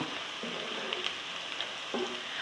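Garlic and ginger fry in a pan for palak chicken, giving a steady, soft sizzle with faint stirring scrapes twice over the short stretch, close and continuous with no talking.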